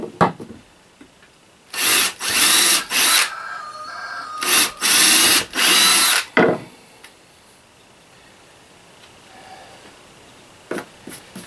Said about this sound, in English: I'm just putting 3 holes in here so I can put screws through.